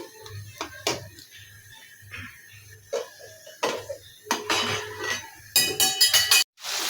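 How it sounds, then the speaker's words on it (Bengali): A bowl is rinsed and washed in a home kitchen, with scattered clinks and knocks against other dishes, followed by a short burst of splashing water near the end. "সেই বাটিটা একটু ধুয়ে দিন মশলাটা ধুয়ে দিই"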